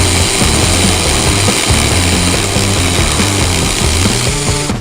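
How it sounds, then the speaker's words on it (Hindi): A drill machine fitted with a cutting attachment cuts through wood with a loud, continuous high-speed whine and grinding buzz, steady and close with no talk, easing slightly at the very end. "ये लो भाई, कितना फास्ट और कितना बटर स्मूथ ये जो है ये काटती है लकड़ी को"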